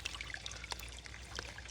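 Water trickles into a rigid hiking filter bottle held at a backcountry water source, a faint, steady stream with light splashy gurgles running alone throughout.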